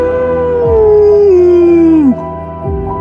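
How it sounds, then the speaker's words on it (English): A wolf in a forest lets out one long, loud, close howl that slides slowly downward and breaks off, with a short whimpering yelp after it. It is a story sound effect with no talking over it. "a long howl echoed throughout the forest"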